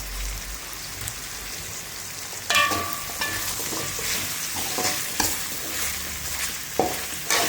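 Cut potatoes go into a hot pan and are stir-fried, a steady crackling sizzle with sharper bursts of scraping and stirring as the spatula moves through; close and fairly loud, no talking.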